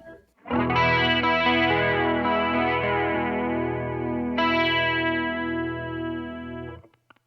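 Electric guitar played through a Boss CE-1 chorus pedal, sustained chords shimmering with a wide, warbling chorus that swells and rings out for several seconds, loud and alone.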